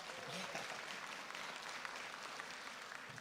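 Steady, faint applause from a crowd at a hospital town hall meeting, a dense patter of clapping that continues evenly throughout.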